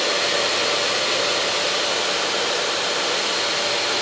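Loud, steady broadband whir of cooling fans in a Chenbro RM 519 rackmount server with a quad-CPU Tyan S8812 motherboard running continuously, a constant hiss-like roar with a faint tonal hum and no other sounds.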